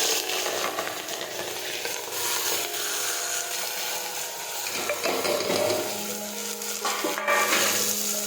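Mustard seeds, cumin and green cowpea beans frying in hot oil for a Gujarati curry, with busy scraping and stirring over a dense, constant sizzle.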